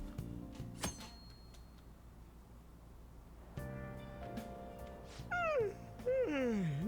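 A cat meowing in the video game Persona 5 Royal, with a couple of rising and falling meows near the end over soft game music and low background tones.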